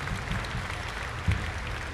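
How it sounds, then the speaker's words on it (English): Applause from the audience at a school music program's alumni concert: a steady, fairly quiet patter of clapping heard from within the crowd, with a slight swell near the end. "Jim Goldenstern, let's give him a round of applause anyways, because he deserves it."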